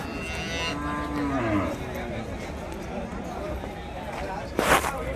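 Native cattle low at a busy livestock market, drawn-out moos rising and falling against a noisy crowd background, with someone talking over them.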